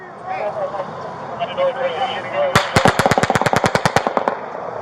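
Police bodycam captures a street shooting: after muffled voices and shouting, a rapid burst of about a dozen loud gunshots cracks out in quick succession, close and sharp, over continuing background noise.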